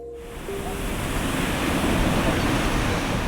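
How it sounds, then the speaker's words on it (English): Ocean surf washes steadily onto Greystones beach, a broad continuous roar of breaking waves that swells slightly louder over a few seconds, with some wind buffeting and no talk. "we're in front of the beautiful Greystones beach here"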